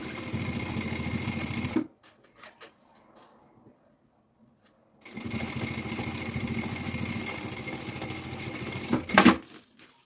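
A sewing machine stitches a seam on a preschool backpack, running steadily for about two seconds, pausing, then resuming in a long continuous burst with a brief louder clatter near the end.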